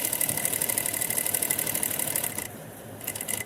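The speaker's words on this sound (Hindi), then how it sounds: "पंजे को उठाकर और इस पर सिलाई लगा लेंगे।" A sewing machine stitches fabric with a fast, steady mechanical whir, loud and close, then slows and pauses briefly before restarting.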